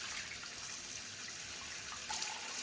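A vibrating pleasure device is lowered into water, heard as steady, hissing splashing and running water close by, with no voices over it.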